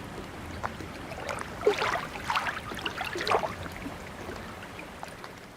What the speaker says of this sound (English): enjoy this generic sample of lapping water sounds